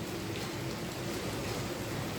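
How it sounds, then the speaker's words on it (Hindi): Heavy rain falls in Delhi as an even, continuous wash of noise, close and loud with no other sounds. "बारिश इतनी अच्छी हो रही है"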